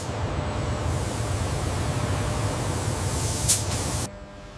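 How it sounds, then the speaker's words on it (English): Robotic sprayers apply lizard green base coat to a Porsche 911 GT3 RS carbon body in a factory, giving a loud, steady hiss that runs for about four seconds and then cuts off sharply. "The robotic sprayers apply the lizard green base coat."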